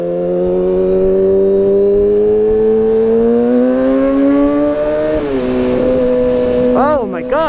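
Kawasaki Ninja ZX6R 600 sport motorcycle engine held at a steady, loud drone whose pitch climbs gradually, dips briefly, then blips up and down in quick revs near the end.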